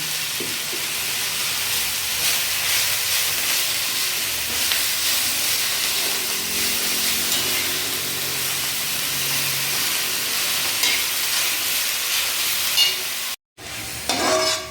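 Asafoetida powder dropped into a hot oiled pan while making coriander chutney, a steady close sizzle and hiss with stirring scrapes, continuous and loud, briefly cut near the end.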